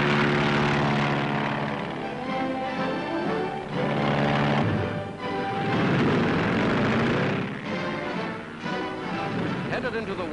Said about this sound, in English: propellers are turned over for a flight over the Arctic ice cap